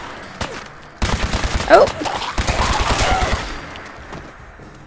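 Rapid weapon gunfire from Fallout 4 erupts in a dense burst of repeated shots, loud and close, with a brief startled exclamation from a player over it.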